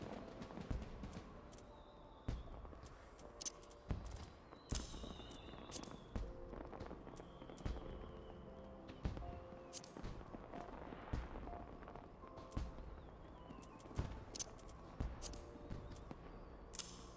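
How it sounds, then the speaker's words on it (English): Fireworks in Final Fantasy XIV, with repeated sharp crackling pops and bursts scattered unevenly over a quiet, faint game background. "Better appreciate the fireworks because they're going away in 2 days."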